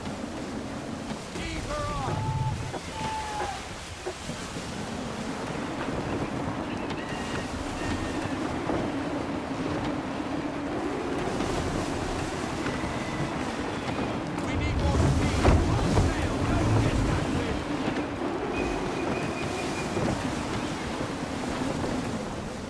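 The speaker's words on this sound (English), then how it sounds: "Gusty winds can be difficult to manage." A sailing ship in Assassin's Creed 3 pushes through open water as gusty wind and surf wash steadily around it, with a stronger surge midway, while game characters talk over the rushing sea.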